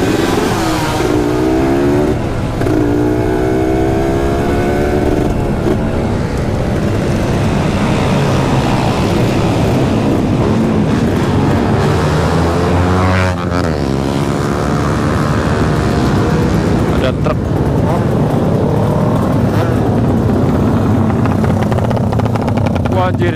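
Modified motorcycles with loud aftermarket exhausts, including a Kawasaki KLX with a Herex pipe, Tiger and Ninja RR, rev and accelerate in repeated rising and falling blasts, loud and close, with popping crackle and speech over them.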